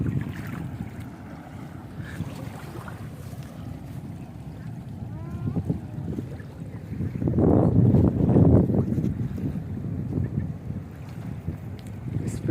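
A petrol speedboat running on the Padma river, a low rumbling engine mixed with gusty wind buffeting and water wash, swelling louder midway before easing off.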